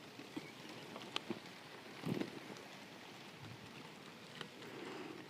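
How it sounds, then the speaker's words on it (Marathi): Steady monsoon rain falls outdoors around a wood-fired clay stove, a faint, even patter of drops with a few slightly louder splashes, distant and continuous with no talking. "वरून पडतोय पाऊस."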